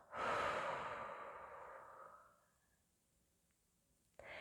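A long, breathy exhale during a guided breathing exercise, loud at first and then tapering over about two seconds into near silence before a short breath sound returns at the end.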